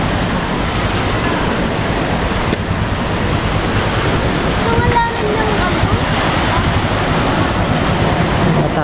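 Steady broadband wash of surf rolling onto the shore at a fish terminal, with wind noise buffeting the microphone throughout.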